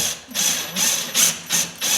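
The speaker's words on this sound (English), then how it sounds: "I'm just going to do it with the drill." Power drill backing out guitar pickup screws, a close ratcheting whir in five or six short repeated bursts with brief pauses between them.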